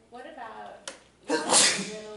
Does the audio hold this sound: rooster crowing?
no